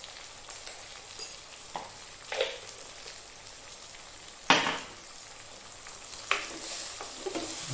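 Turmeric powder stirred into a frying pan for a fish roast, a soft sizzle under scattered scraping strokes, with one louder clatter around the midpoint and lighter knocks later.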